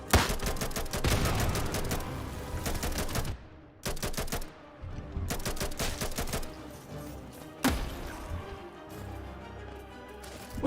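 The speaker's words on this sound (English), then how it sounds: "it seemed like I summoned one missile." Hollow Knight gameplay with a Soul Shard missile being summoned, heard as loud, rapid bursts of crackling, gunfire-like impacts with short gaps and abrupt cut-offs.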